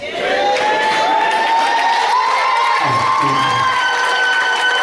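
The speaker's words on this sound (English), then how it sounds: "I got 10 screams." A church congregation at a Christian empowerment conference screams and cheers loudly, a dense sustained roar of many voices with high whoops riding over it, continuing without a break.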